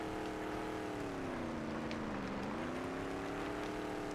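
A Warthog vehicle engine revving in Halo CE with the XAM mod, a sustained steady droning motor note that dips in pitch midway then climbs back, close and constant with no speech.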